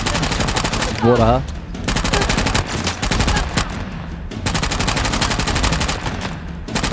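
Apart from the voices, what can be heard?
gunfire in a video game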